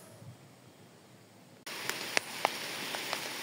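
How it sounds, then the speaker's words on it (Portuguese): Rain begins falling in a forest during a thunderstorm, a sudden steady hiss of drops on leaves with a few sharper nearby drips, following a quiet stretch. "pegamos uma chuva"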